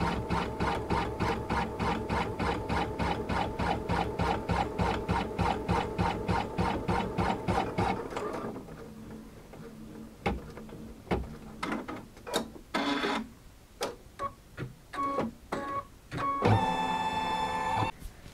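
A sewing machine runs a basting stitch along Christmas tree garland, giving a rapid, steady mechanical chatter for about eight seconds before stopping. Scattered clicks and handling noises follow.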